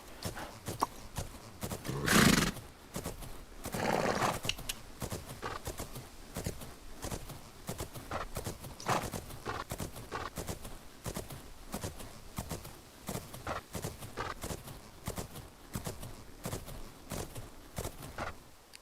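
Horse in the game Fernhoof Grove whinnies loudly near the start, then clip-clop hoofbeats keep a steady walking rhythm throughout, close and moderately loud, with another neigh-like burst shortly after.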